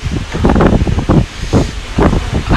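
Gusty wind buffets the microphone outdoors on a path in rainy-season weather, coming as loud, rumbling bursts one after another.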